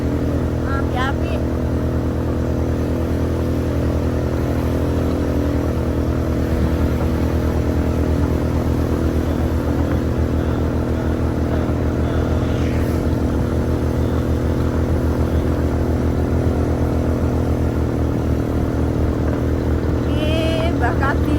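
A motorcycle engine idles and runs steadily, a loud continuous close-up rumble with a constant droning hum that lasts the whole stretch, while people talk over it.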